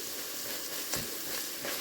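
Garlic cooks down in a hot pan with a steady, close hiss of sizzling, broken by a brief clink near the middle. No one speaks.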